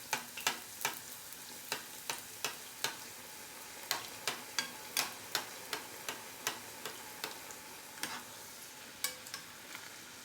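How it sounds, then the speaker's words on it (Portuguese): Fogazza dough fries in plenty of oil with a soft, continuous sizzle punctuated by sharp, irregular pops and crackles, close by and fairly quiet, with no talking. "Aí deixa fritar bastante."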